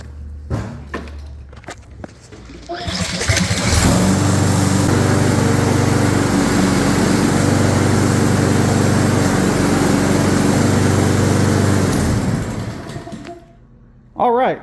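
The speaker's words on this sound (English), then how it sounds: "we're going to start the mower up and we're going to try it out" A Husqvarna AWD self-propelled lawn mower starts after some footsteps and handling noise, then runs loud and steady with a high engine whine for about nine seconds before winding down. A brief burst of noise follows near the end.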